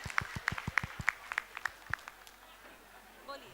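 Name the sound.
applause welcoming a speaker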